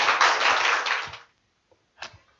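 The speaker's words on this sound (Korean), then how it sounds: "우리 박수로 환영하겠습니다" A church congregation bursts into welcoming applause for a visiting missionary, a dense wash of clapping for about a second before cutting off, then a brief spatter of a few more claps.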